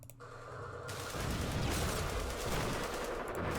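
Gunfire during an assault in Campaign Series Vietnam erupts after a brief quieter opening, turning into a sustained crackling fusillade of rapid shots and booms that stays loud to the end.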